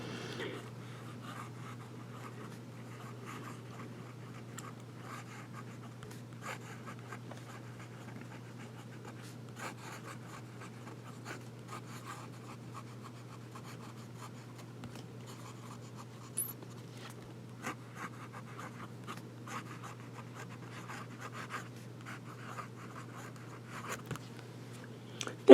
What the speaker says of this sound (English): Now we'll do some writing.